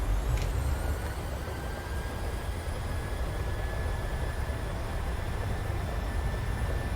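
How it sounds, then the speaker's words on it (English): A Boeing 737's engines at takeoff thrust make a steady, loud, broadband roar with a faint high whine running through it, continuous and unbroken throughout. "Stabilized, set takeoff thrust."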